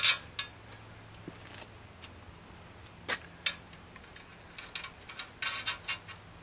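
Metal washer and nut fitted onto a bolt of a bike rack during assembly, heard as scattered small metallic clinks and taps close by, separated by quiet gaps.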